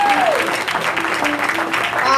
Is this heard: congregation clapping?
yes